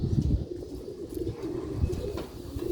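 Sialkoti roof silver breed pigeons coo softly on a rooftop, low repeated throaty calls close by with a brief flutter early on, fairly quiet overall.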